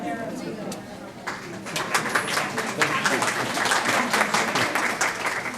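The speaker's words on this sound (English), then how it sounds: "thank you for the applause" An audience applauds at a university lecture, with a dense, steady wash of many hands clapping close and fairly loud, building slightly and sustained throughout, with faint voices underneath.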